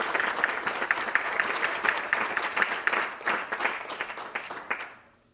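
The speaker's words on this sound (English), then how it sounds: "Please join me in giving all of our recipients another round of applause." A room full of people at a high school FFA banquet applauds award recipients, dense, close clapping with sharp individual claps standing out, holding steady for several seconds before tapering off to quiet.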